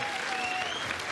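Audience applause at a parliamentary hearing on the Choi Soon-sil affair, a dense, steady burst of many hands clapping filling the whole short moment without a pause.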